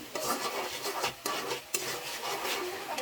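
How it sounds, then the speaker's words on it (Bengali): Tomatoes being stirred into a cooked-down prawn and spice paste in a pan, giving a steady close scraping and stirring with a faint sizzle and a couple of brief knocks against the pan. "টমেটোগুলো দিয়ে আমি একটু ভালো করে নেড়ে চেড়ে দিচ্ছি"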